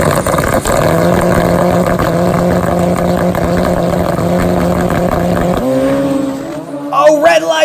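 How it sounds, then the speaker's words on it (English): Turbocharged drag racing motorcycles at an IHRA drag strip roar loud and steady with harmonic engine drone, the pitch stepping up near the end as they accelerate away; speech-like announcer sounds may be mixed in. "That's a fast motorcycle over there, Collins."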